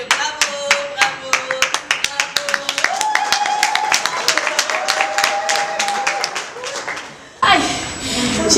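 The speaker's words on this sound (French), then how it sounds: "Applaudissez-le." Audience applause at a live stage show, the comic spectacle "Dans le Noir": dense rapid clapping, loud and sustained, with a voice calling out over it, swelling into fuller applause near the end.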